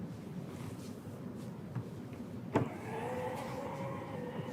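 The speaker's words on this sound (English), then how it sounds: "The one on the left-hand side will close the tailgate and lock the vehicle." A Subaru Forester's power tailgate closes, with a soft thud followed by a steady electric motor whine as the gate lowers, heard fairly close in a quiet setting.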